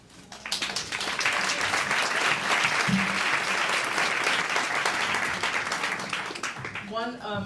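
An audience at a forum for an at-large DC Council seat breaks into sustained applause, dense clapping building quickly and holding steady for about six seconds before a voice starts speaking at the end.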